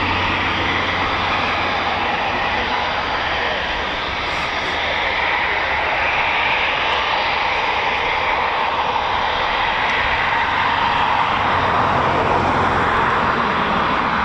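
Eurofighter Typhoon FGR4 jet at RAF Coningsby, a broad steady roar of jet engine noise, sustained and fairly loud throughout with slight swelling toward the end.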